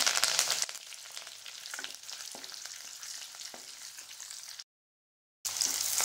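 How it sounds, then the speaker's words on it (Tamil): Mustard seeds spluttering in hot oil for a Tamil pepper kuzhambu, a continuous crackling sizzle with small sharp pops, loud at first then steadier, cut by a brief silent gap before the frying resumes. "இப்போ கடுகு நல்லா வெடிச்சிருச்சுங்க"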